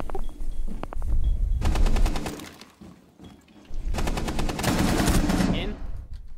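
Bursts of rapid automatic gunfire from a Rainbow Six Siege match, loud and close, coming in two long stretches with a brief lull between them.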